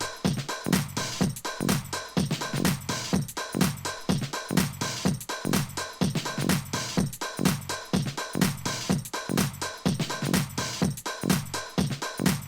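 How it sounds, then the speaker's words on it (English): DJ edit music intro with a low cut EQ at 150 Hz, a steady four-on-the-floor beat with thinned bottom end and bright percussion repeating evenly throughout, no voices. "take the first 8 bars and do a low cut EQ on it"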